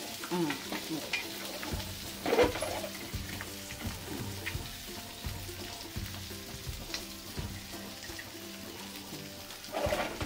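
Fish pieces for a fish biryani frying in hot oil, a steady crackling sizzle with occasional louder bursts as pieces are lowered in and moved about, close and loud with no voices.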